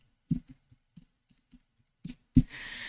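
Sparse keystrokes on a computer keyboard, about ten soft, uneven taps in a quiet room, ending with a louder click followed by a faint hum.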